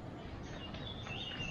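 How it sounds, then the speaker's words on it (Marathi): Faint, high bird chirps flicker over a steady rush of stream water in the forest along the Malshej Ghat trail, heard from a distance. "आणि तुम्ही बघा इथे आता पक्ष्यांचा मस्त किलबिलाट"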